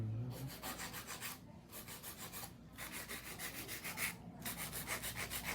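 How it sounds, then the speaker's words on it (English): A 100 grit file rasps across an acrylic nail in steady back-and-forth strokes, close and fairly quiet, with a brief pause between passes and no talk. "Maybe I'll do a little bit more filing, but not that much because you don't want to overfile."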